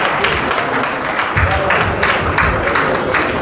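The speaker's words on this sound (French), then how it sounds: "Applaudissez." Guests at a civil wedding ceremony applaud, a dense, steady clapping that fills the whole stretch, loud and close, with some crowd voices mixed in underneath.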